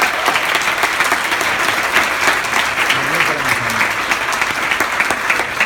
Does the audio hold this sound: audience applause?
yes